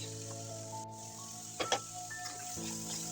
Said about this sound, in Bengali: এখানে মাংসগুলো এক এক করে ভেজে নিচ্ছি